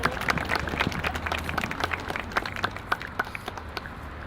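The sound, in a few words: audience round of applause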